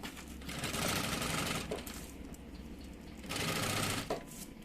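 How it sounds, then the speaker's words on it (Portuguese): Sewing machine stitching fabric for a double baby bottle holder, a close, rapid mechanical whir in two sustained runs with a short slower pause between them. "E aí, vai costurando."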